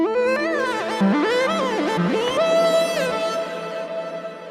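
A bright, gliding synthesizer melody with bending pitches plays alone in the NanoStudio 2 app on an iPad, with a faint metallic cowbell tapping mixed underneath.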